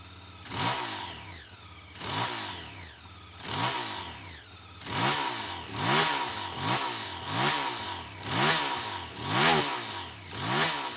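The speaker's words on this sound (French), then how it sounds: "Je vous ferai écouter le son de ce moteur" A Chinese 500cc motorcycle engine revs repeatedly, rising and falling in regular throttle blips over a steady idle, close and loud, with airbox noise.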